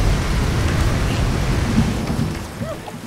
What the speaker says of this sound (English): They'll all be wet when the rain wears off